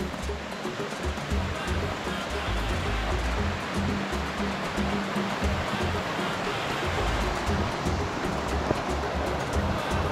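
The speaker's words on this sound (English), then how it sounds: "It's really a beautiful waterfall, and it is the second largest waterfall in Tanzania." Materuni waterfall near Kilimanjaro in Tanzania, the second largest in the country, gives a loud, steady roar of rushing water heard up close, with no pause throughout.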